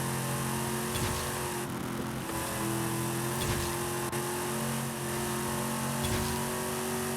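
Car engine in Forza Horizon 5, a steady loud drone at cruising speed with a few brief gear-shift dips, continuous and alone.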